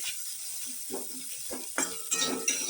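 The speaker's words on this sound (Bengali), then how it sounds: "ভালো করে পাতার সাথে বেগুনগুলোকে আমি মিশিয়ে নিচ্ছি" A spatula stirs fried eggplant with neem leaves in a frying pan, a steady oil sizzle under scraping strokes and sharp metallic clinks, close and alone.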